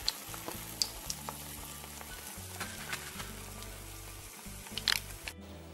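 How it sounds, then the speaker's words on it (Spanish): Ham and cheese bread rolls fry in a pan with a soft, steady sizzle, broken by occasional clicks and utensil taps, close and fairly quiet, with no talking. "después de freír todos nuestros enrollados de jamón y queso"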